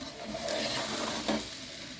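A spoon works soaked rice gently around the edges of a chicken biryani pot over low flame, giving a soft, close scraping and sizzling texture with a brief louder stir near the middle.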